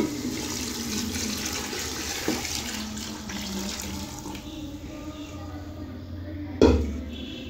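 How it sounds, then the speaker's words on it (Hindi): Water pours steadily into a cooking pot of rice and meat stock for gosht pulao, a continuous splashing gush with a clank of the vessel near the end. "3 कटोरी यखनी की थी और 4 कटोरी इसमें पानी की है। अब मैं इसके अंदर ऐड कर दूँगी।"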